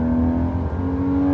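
A Porsche 981 Boxster's engine drones steadily up close, a strong sustained tone with a faint rise, loud and continuous without any talk.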